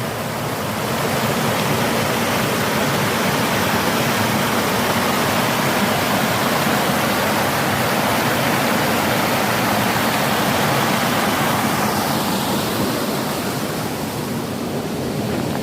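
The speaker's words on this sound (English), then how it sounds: "Yeah, looks like there is a big river." A big river of rushing water, heard as a dense, steady roar of churning flow that fills the whole stretch evenly and loudly, with no voices over it.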